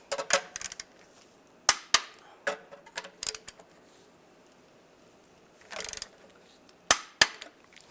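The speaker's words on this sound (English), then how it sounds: "Now we'll torque these bolts to 37 foot-pounds." Bolts on a Chevy Silverado rear main seal cover get tightened with a torque wrench in sharp metallic clicks and short ratcheting bursts, scattered irregularly with quiet gaps.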